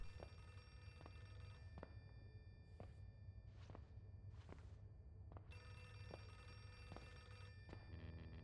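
A classic telephone ringing in the horror video game Outlast 2, repeated bursts of bell rings with short gaps, alongside faint footsteps and soft thuds in a quiet setting.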